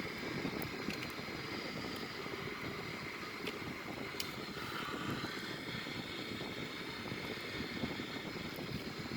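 Boeing 787-9 airliner just after landing, heard as a steady, loud broadband roar of engines and airflow that fills the whole stretch without letting up.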